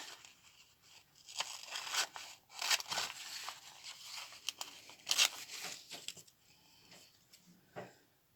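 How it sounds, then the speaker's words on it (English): Scissors cut small pieces out of a glossy magazine page, producing irregular crisp snips and rustling paper crinkles at close range, quiet overall. "let's cut out these birdies"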